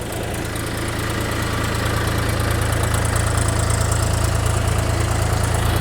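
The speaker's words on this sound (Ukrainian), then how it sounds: "І саме в цьому відео ви чуєте звук роботи двигуна цього тракторця." A small three-cylinder tractor engine idles steadily up close, a continuous low chugging rumble with a fine rapid pulse, growing slightly louder as it goes.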